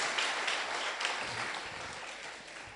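A church congregation claps and applauds together, a dense, steady wash of hand claps that fills the room and slowly tapers off, with no talk over it.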